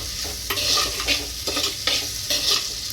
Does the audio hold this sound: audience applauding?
no